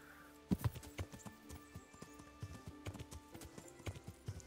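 Horse hooves clip-clop in a steady trotting rhythm in the medieval game Kingdom Come Deliverance, moderately close and clear, with a brief whinny near the start and faint ambient background.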